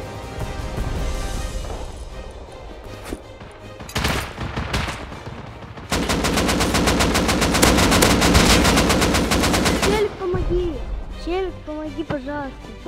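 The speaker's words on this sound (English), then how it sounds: "There's a guy shooting me over here." Gunfire in the survival game Rust, with scattered shots early, then a long sustained burst of rapid automatic fire, loud and close, followed by a few more shots while a voice talks throughout.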